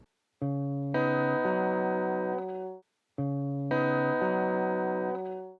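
Two plucked acoustic guitar phrases from a song intro, each building from single open strings into a ringing chord that sustains, with a short pause between them.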